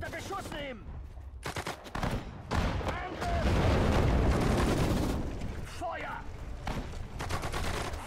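Soldiers firing rifles and machine guns in the WWII strategy game Sudden Strike 4, battle of Sedan: loud, dense rattling volleys and bursts with booms, continuous through the clip, mixed with game voices.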